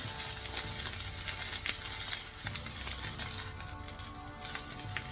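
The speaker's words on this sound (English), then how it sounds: "This won't take too long now because the oil will hit the pan." Naan bread frying in hot oil in a pan gives a steady, close sizzle with soft crackles and pops, continuous for the whole stretch and with no voices.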